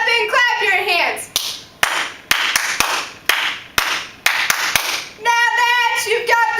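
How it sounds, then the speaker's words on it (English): Fans at a school cheer event clap in sharp, spaced single claps that fall between chanted cheer lines, with voices leading the chant. "stand up and clap your hands."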